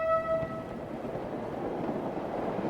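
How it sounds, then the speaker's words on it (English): A train horn with a goofy, clown-horn-like honk gives one short harmonic blast at the start, then trails into steady rumbling rail noise with no voices. "That was like a clown horn, but in train form."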